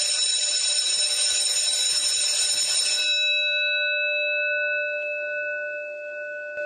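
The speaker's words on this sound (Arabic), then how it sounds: "لما يرن جرس المدرسة بآخر اليوم الدراسي" An electric school bell rings at the end of the school day: a loud, continuous metallic clatter for about three seconds that cuts off, leaving a ringing tone that fades slowly.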